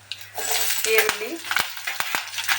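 Onions and greens frying in a pan, a steady close sizzle with a few sharp clicks of a spoon or spatula stirring against the pan.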